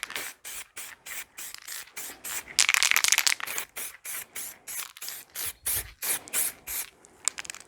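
A spray can of primer fires short repeated bursts at ceiling molding, hissing in a quick rhythm of pulses with one longer spray, close and fairly loud.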